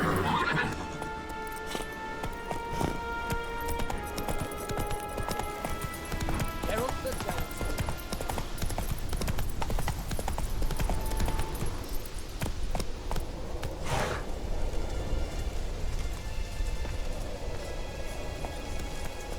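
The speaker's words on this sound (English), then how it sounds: "Run, Roach." A horse gallops with rhythmic clip-clop hooves and whinnies in the video game The Witcher 3, with rain pattering in the background and a voice speaking over it.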